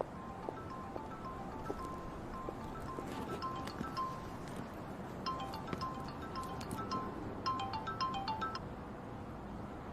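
A telephone rings indoors with repeated electronic ringtone bursts over a busy, noisy room background, fairly faint and steady through the stretch.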